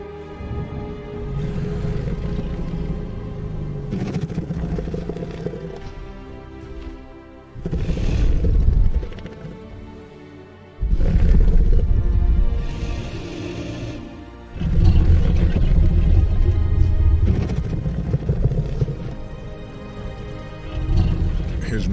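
Deep rumbling Tyrannosaurus courtship calls, low booming roars that swell in several long bursts separated by quieter stretches, with a rolling resonant rumble under a narrating voice.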